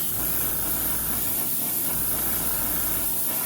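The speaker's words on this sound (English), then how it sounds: "I don't want that plastic look, so I got my brush, my airbrush." An airbrush sprays paint onto a plastic HO scale Walthers Prairie CO-OP model kit, a steady close hiss of air and paint mist running continuously with no talking.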